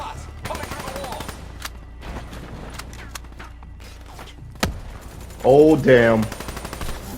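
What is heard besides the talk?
gunfire in video game Call of Duty Black Ops 2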